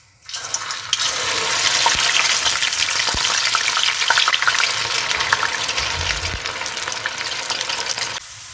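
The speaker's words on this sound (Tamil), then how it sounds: "இந்த டைமில் நாங்கள் ரெடி பண்ணி வச்ச வெண்டைக்காயை கொஞ்சம் கொஞ்சமாக போட்டு பொரிச்சு எடுத்துக்கொள்வோம்." Okra pieces dropped into hot oil in a pan for vendakkai kulambu fry with a loud, steady crackling sizzle that runs nearly the whole time, with a few sharp pops and no talking.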